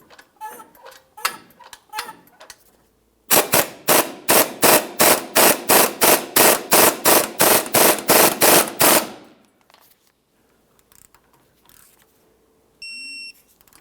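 Rapid impact-wrench bursts, about fourteen evenly spaced hammering pulses in a loud run, tightening a lower control arm bolt on a 2006-2012 Ford Fusion during front CV axle work, after some quieter clanks and before a brief beep.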